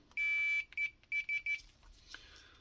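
A multimeter set to continuity mode beeps in short bursts, one longer tone followed by four quick clipped beeps as the probes touch a power plug connection, close and clear in a quiet room.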